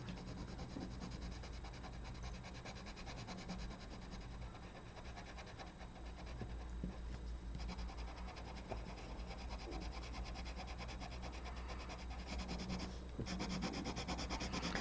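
A coloured pencil is pressed hard against paper while burnishing, producing a faint, continuous scratchy rubbing that runs on without a break.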